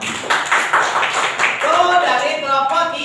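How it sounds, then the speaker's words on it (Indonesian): A classroom of students claps briefly for a classmate during a biology lesson. Brisk, close applause fills the first half, then a teacher's voice talks over it as the clapping fades out. "Tepuk tangan dulu."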